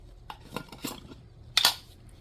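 A metal spoon clinks and taps against a bowl while sesame seeds are added to a seasoning mix for cod roe with honey and nuts, a few separate light scrapes and one brighter clink, close and clear.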